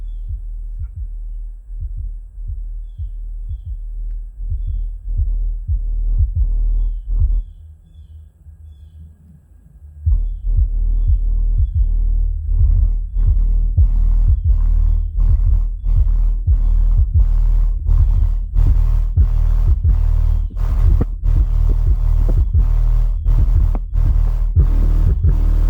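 Black Diamond subwoofers pound out loud, deep bass in a steady thumping rhythm, dropping briefly quieter partway through before surging back stronger and fuller, with no voices over it.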